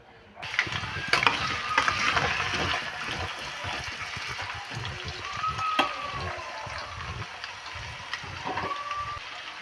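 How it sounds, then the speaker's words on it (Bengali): Potato pieces fry in a generous amount of oil, giving a steady close sizzle with repeated scraping stirs from a utensil throughout. "এই তেলের মধ্যেই আমি আরেকটু তেল অ্যাড করে আমি আলুটা ভেজে নেব"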